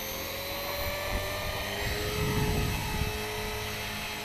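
A Hobby King 450 Pro RC helicopter converted to torque-tube drive flies outdoors on a windy day, giving a loud, continuous high-pitched rotor and motor whine with a gusty low rumble swelling midway.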